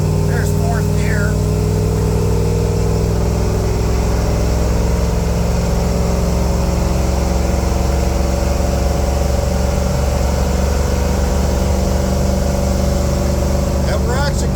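A 1986 Ford Bronco with a fuel-injected 460 V8 cruising in fourth gear into the wind, heard from inside as a loud steady engine drone with road and wind roar, while someone talks over it.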